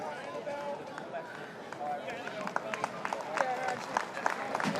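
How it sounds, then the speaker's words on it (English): Crowd applause at an A-League football match between Central Coast Mariners and Newcastle Jets, a steady broad wash of clapping from the stands, swelling slightly toward the end with scattered sharper claps, under ongoing commentary. "Applause from the crowd"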